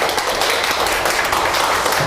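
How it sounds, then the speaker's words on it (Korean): A classroom of students at a real-estate agent exam prep academy claps together, a dense, loud burst of applause sustained evenly with no talk over it. "우리 박수 한번 치고 할까요?"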